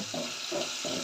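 Water splashing and running into a pan in a few short pulses, close by, with a steady rushing hiss underneath.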